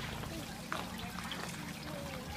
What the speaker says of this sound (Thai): มีน้ำตกด้วยนะ